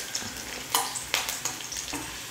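Finely chopped garlic sizzles in hot oil in a pan for a Tamil egg poriyal, a close, crackling fry broken by a few sharp scrapes of a stirring spoon.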